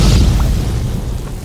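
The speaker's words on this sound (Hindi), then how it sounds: "रोबो का गुप्त अड्डा भी धमाके के साथ उड़ गया।" In an audio drama, a secret base is blown up, a deep booming explosion that hits hard at once and then rumbles away over about a second and a half, with no voices.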